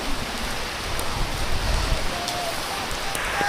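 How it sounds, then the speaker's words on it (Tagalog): Steady rain falling during a typhoon in Infanta, Quezon province, a dense continuous hiss with faint voices nearby. "ulan. Pambihira."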